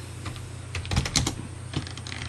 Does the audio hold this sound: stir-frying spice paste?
no